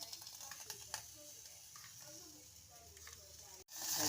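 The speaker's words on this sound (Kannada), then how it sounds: "ಖಾರ ಹಾಕ್ಕೊಂಡು ಹುರ್ಕೋಬೇಕು ಚೆನ್ನಾಗಿ" Green gram roasting in a pan with chili powder, giving a soft, steady dry sizzle and faint scraping from stirring, quiet and continuous, ending in a brief louder rustle.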